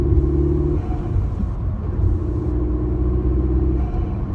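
A VW Polo 6C TSI engine with a Tweek air filter pulls hard in fourth gear from about 1,800 rpm, a steady low rumble with harmonic engine tones that holds loud and close throughout, with no voices.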